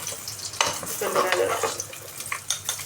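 Rice with raisins being spooned out of a pot onto a plate, with repeated close scraping and stirring of a utensil against metal and soft clatter, loud and uneven over a quiet background.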